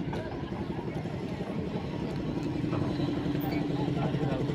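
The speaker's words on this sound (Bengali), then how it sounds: "এই যে নৌকাটা সামনে দিয়ে বার হইলো" A boat on the Ganga river passing the high ghats in Banaras, heard as a steady low engine rumble with broad wind and water noise, voices nearby in the background.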